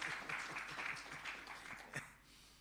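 Audience clapping at an accreditation awards ceremony, a brief, quiet patter of hands lasting about two seconds with a final louder clap before it dies away.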